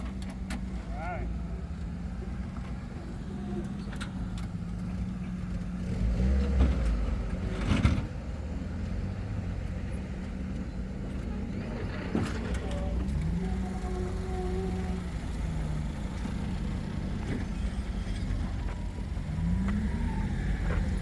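Antique 4x4 Jeep crawling over rock on the Moab Rim, a low engine rumble with occasional revs and scraping knocks, mid-distance, under intermittent spotter voices calling directions.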